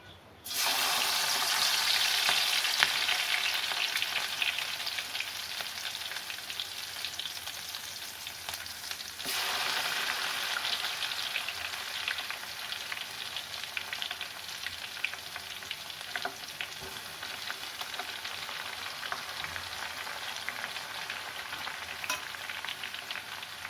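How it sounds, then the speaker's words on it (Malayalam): Sliced bitter gourd and other ingredients dropped into hot oil in a home kitchen pan, a loud continuous sizzle that bursts up as pieces go in and then settles into steady frying crackle, with a brief stir partway through. "എണ്ണ ചൂടായിട്ടുണ്ട്. ഇനി നമുക്ക് പാവയ്ക്കും ബാക്കിയെല്ലാം കുറേശ്ശെ ആയിട്ട് ഇട്ട് കൊടുക്കാം."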